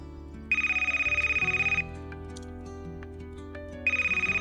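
A phone rings at the other end as a call is placed to a friend, loud electronic pulsed ringing tones in two separate bursts with a quiet gap between them.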